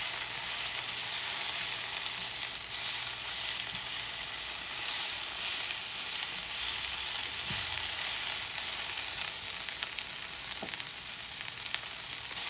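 Fresh spinach frying in a hot pan for a healthy breakfast, giving a steady, dense sizzle and crackle throughout with a few faint stirring knocks and no voices.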